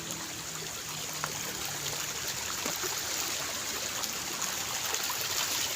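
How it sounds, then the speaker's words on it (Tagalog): A strong current of a forest stream in Cavite rushes steadily, a continuous broadband hiss of flowing water heard up close with no voices. "malakas ang agos ng tubig ayan eh"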